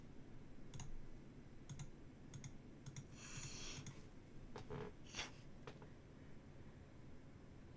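A computer mouse gives faint, sharp clicks, some in quick pairs, spaced out over a quiet background.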